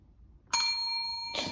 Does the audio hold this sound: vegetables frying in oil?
no